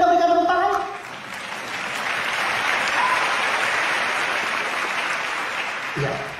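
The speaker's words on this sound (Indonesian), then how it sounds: "Boleh kita berikan tepuk tangan?" A voice speaks briefly before an audience breaks into steady, even applause that fills several seconds in a scene from an Indonesian comedy film. Another voice comes in just as the clapping fades.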